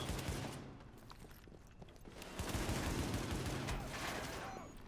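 Heavy gunfire from a heavy machine gunner enemy during a firefight at the WarrenGate Power Plant in The Division on challenge mode, dense rapid bursts that swell louder in the second half, with faint talk underneath.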